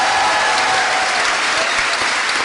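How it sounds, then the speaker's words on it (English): Loud, sustained applause from a festival audience for volunteers and supporters at LLF 2014, a dense wall of clapping that holds steady throughout. "A big round of applause for all our volunteers"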